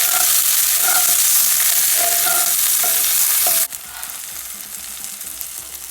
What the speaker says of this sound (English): Some vegetable oil is fine. So that's our onions, our garlic, and a little teeny bit of parsley.